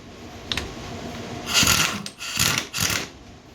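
Ratcheting wrench loosening the 27 mm basket clutch nut on a 1999 Honda Fourtrax 300 ATV, a few short bursts of mechanical clicking and clanking close up, with no talk.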